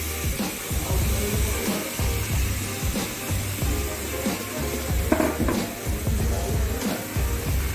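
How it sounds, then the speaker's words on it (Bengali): Marinated chicken meat hits a hot pan with a loud, continuous sizzle and spitting hiss, with scattered clinks and scraping of a spatula stirring it up close. "ম্যারিনেট করা মাংসটা দিয়ে দিলাম।"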